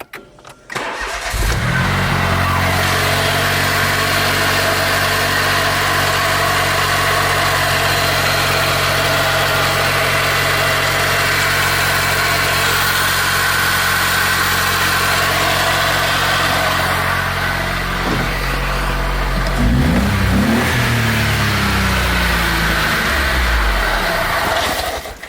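A car engine cranks briefly, catches and settles into a steady, loud idle that holds for about sixteen seconds before revving and wavering toward the end.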